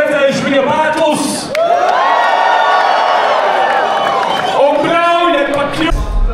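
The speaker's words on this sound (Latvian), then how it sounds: "Bļaujiet par Omi, jūs esat dzirdējuši viņa albumu." A crowd at a rap battle final roars with loud shouting and cheering in sustained swells that dip briefly and then rise again, with whoops among them.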